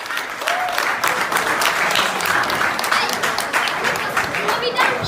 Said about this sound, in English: Please, a round of applause for Dr. Hindika.